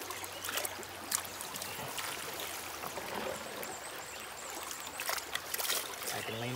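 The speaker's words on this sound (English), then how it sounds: "All I'm doing is water between the two sluices." Water running between two stacked gold prospecting sluices outdoors, a steady rushing and trickling flow with splashy bursts, fairly faint and continuous.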